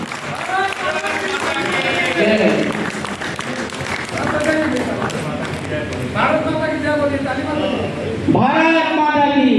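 Applause honouring guests at a workshop, with dense, continuous clapping from a crowd filling the room, heard beneath loud voices talking and calling out over it.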